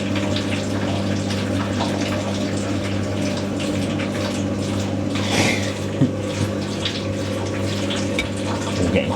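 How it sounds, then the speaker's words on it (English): A Hotpoint WD64 Aquarius Extra washer dryer running its heat drying cycle, with water flowing and draining continuously over a low mechanical hum, close and steady, with a few brief knocks partway through. "That shows you how wasteful of water though washer dryers really are."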